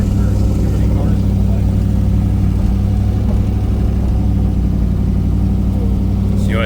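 Built-up 5.3 turbo engine running on E85 in an old Silverado, warming up with a steady, loud, low idle rumble that holds even throughout.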